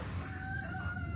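Chickens at a family home in Burley, Idaho give a steady, close rooster-like crowing and clucking with a low murmur of background noise, with no talk over it.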